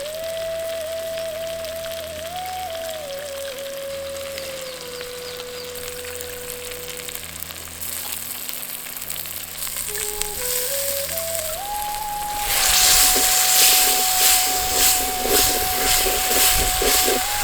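Turkey berries (sundakkai) sautéing in a pan with softened tomatoes for a tamarind curry, a steady sizzle that swells into louder, crackling frying near the end, with a faint background tone and no talk.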